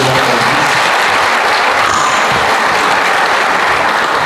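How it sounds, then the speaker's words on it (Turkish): Loud, dense applause from an audience filling a concert hall at a Turkish classical music evening, sustained evenly throughout without any talk. "Alkışlarınızı rica ediyorum"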